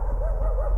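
A dog barking in the horror video game Layers of Fear: short, close, low-pitched bark-like calls that run across the moment with rising and falling tones, alone without talk.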